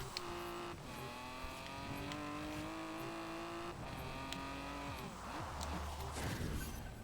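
Several car engines in Forza Horizon 4 race together, loud and continuous, with rising and falling revs as gears change and a brief tyre squeal near the end; no voices.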